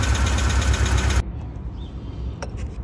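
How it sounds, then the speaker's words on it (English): A car engine idles with an exhaust leak just ahead of the catalytic converter, giving a loud, steady rumbling roar close by that suddenly drops to a quieter, even idle after about a second. "Looks like you certainly have an exhaust leak right there,"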